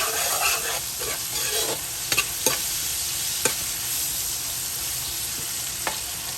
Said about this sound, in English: So I'm gonna let this fry up anywhere from 1 to 2 minutes.